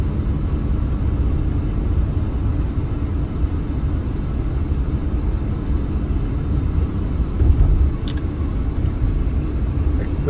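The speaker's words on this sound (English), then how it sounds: "See the traffic here on a Thursday afternoon" Steady low road-traffic rumble on a Las Vegas street on a Thursday afternoon, heard from inside a moving vehicle, with a continuous engine drone and a brief swell near the end as something passes close.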